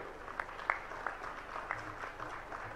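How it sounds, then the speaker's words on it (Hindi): Faint, scattered clapping from a crowd at a Jain religious discourse gathering in Katni, a soft, sparse patter of claps heard at a distance. "आपकी जोरदार तालियां चाहेंगे साथियों"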